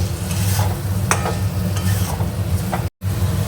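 Spice paste of ground coconut and poppy seed being stir-fried in oil for a prawn and pointed gourd curry, a steady close sizzle with repeated scraping stirs, briefly cut off near the end.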